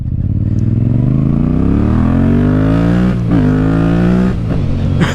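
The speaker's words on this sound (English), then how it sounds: "But you put an aftermarket exhaust on this, woo! Sound like I got me a Harley Davidson." A Yamaha MT-07 motorcycle with an aftermarket exhaust revs loudly up close, its deep rumbling note rising steadily in pitch before briefly dropping and climbing again.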